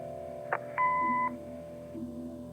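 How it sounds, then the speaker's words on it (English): Answering machine in the video game Kathy Rain gives a single steady electronic beep lasting about half a second, clear over a soft, sustained musical background. "Leave a message after the beep."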